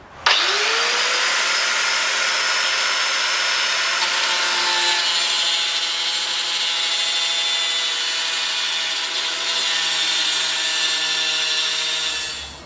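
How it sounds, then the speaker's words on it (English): Power grinder fitted with a cutting blade grinding down a metal pergola bracket, a loud continuous high whine that stays steady throughout, running alone with no talk. "So I'm having to grind this with the power grinder using a cutting blade"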